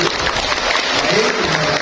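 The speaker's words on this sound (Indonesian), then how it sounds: "Boleh berikan tepuk tangan yang baik" Audience applause at an Indonesian BKKBN East Java event, a dense, even burst of clapping from a crowd throughout.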